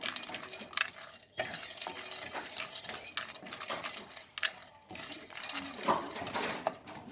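Peanuts dry-roasting in a kadai for a ridge gourd masala curry, with steady scraping and stirring, light rattling and crackle close up, no voice over it.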